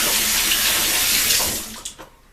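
A tap runs while someone rinses off after a wet shave, giving a loud, steady rushing splash close by that cuts off near the end, followed by a couple of drips.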